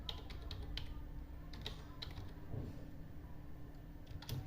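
Computer keyboard typing in a word processor while building a resume, scattered keystrokes over a steady low hum, moderately quiet and alone without talk.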